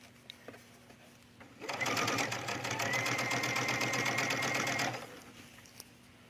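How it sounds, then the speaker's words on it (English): A sewing machine stitches along a shirt collar, starting after a quiet pause with a rapid, even mechanical chatter for about three seconds, then stopping; faint rustles before and after. "And I'm stitching right next to this collar, and I can feel my seam allowance underneath."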